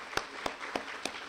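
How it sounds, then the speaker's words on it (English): Brief scattered applause for a caterer at an annual cooperative meeting, a few distinct claps spaced apart, faint and thin, as from a small audience in a meeting hall. "Let's give her a round of applause."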